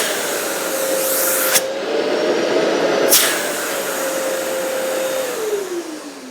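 A Festool dust extractor runs with suction through its nozzle, a loud, steady close-up roar and whine with two brief sharp bursts of airflow, then the motor pitch slides down as it spins down near the end.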